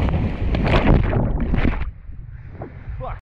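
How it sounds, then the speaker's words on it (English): Heavy wind by a lake buffets the microphone with loud rumbling gusts, then drops away to a quieter hiss before cutting off abruptly. "I know it's windy, and you can barely hear me"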